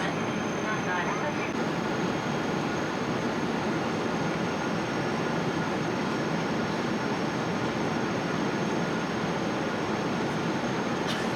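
A passenger jet cabin just after takeoff, climbing through cloud, fills with a loud, steady broadband roar that holds unbroken throughout.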